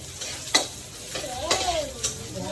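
Food sizzles and spits in a very hot frying pan while chicken with mushrooms and garlic is cooked, a steady crackle with sharp pops and stirring scrapes recurring every half second or so, close and fairly loud.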